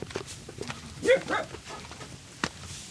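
A dog barks a couple of times at a moderate distance, separated by a pause, over a busy outdoor background.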